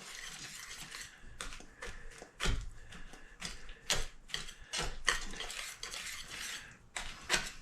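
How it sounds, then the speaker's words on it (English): Brown sugar is stirred into BBQ sauce in a pot, a spoon scraping and clinking repeatedly against the metal sides in an uneven rhythm, close and fairly loud. "Give that a good mixing."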